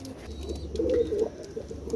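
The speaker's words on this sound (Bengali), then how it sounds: "একজোড়া রানিং রয়্যাল আপনার লক্ষ্য করেন হান্ড্রেড পারসেন্ট পিওর কবুতর" Pure-bred Pakistani Teddy pigeons, a running royal pair, give a brief, soft, low coo close by against a quiet background hum.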